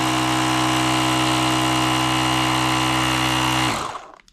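A Temola portable tire inflator drones steadily with a loud, constant motorized hum while pumping air into a tire, then cuts off and winds down near the end.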